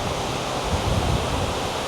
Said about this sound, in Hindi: All this water is flowing down from the waterfall.